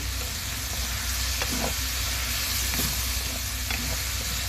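Tausi (fermented black beans) sautéing in a hot pan, with a steady close sizzle and hiss and a few soft scrapes as the spoon stirs through the oil.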